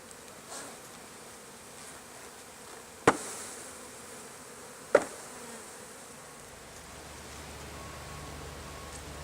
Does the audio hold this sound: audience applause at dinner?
no